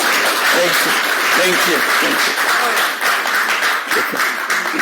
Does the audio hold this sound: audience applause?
yes